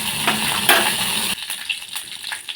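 Mustard seeds dropped into hot ghee for tempering a sundakkai chutney give a broad sizzle. The sizzle cuts off sharply and is followed by scattered light crackles and pops.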